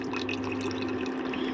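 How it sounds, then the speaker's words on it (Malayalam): Hibiscus juice is poured into a homemade soap mixture, making a steady, continuous trickle of liquid that stays close and even throughout. "ജ്യൂസ് കുറച്ച് എടുത്ത് വെച്ചിട്ടുണ്ട് അത് ഇതിലേക്ക് ആഡ് ചെയ്ത് കൊടുക്കാൻ പോവാണ്"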